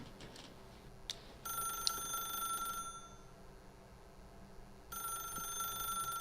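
A telephone in The Stanley Parable rings in two electronic bursts, a long trill followed by a second after a short pause, faint and steady over a quiet low ambient hum, with no talking.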